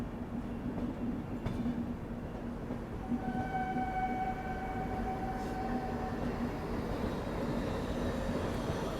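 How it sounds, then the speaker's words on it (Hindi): A diesel locomotive shunting at a station rumbles faintly with a steady low drone, and a thin tone rises above it midway. No voices are heard. "क्या बात है, डीजल लोकोमोटिव शंटिंग करता हुआ ये यहाँ पे।"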